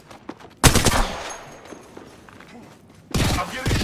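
Bursts of rapid gunfire in the shooter game Apex Legends, a loud volley at the start and another near the end with a quieter stretch between, heard alone without speech.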